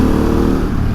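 A 2022 Harley-Davidson Pan America 1250 Special with an aftermarket exhaust, a loud, close, steady engine roar with a deep, throaty drone.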